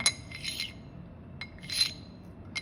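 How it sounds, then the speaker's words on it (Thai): Two short, faint scraping screeches of dice against a plate, a brief grating sound repeated once after a pause, with quiet background otherwise. "เสียงมันจะเป็นเสียงกรีดจานอย่างเงี้ยครับ"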